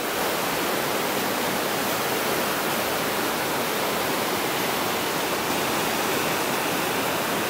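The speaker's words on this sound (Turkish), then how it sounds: "Dere çok şiddetli biçimde akıyor." Loud, steady roar of the Fırtına stream rushing hard beneath a bridge, a dense unbroken wash of water that fills the whole clip with no voices.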